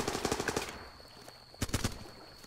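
Automatic rifle fire in the Running With Rifles video game: a rapid burst of sharp shots, a brief lull, then another quick burst, loud and close with a thin electronic tone lingering between.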